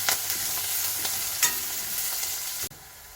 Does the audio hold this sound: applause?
no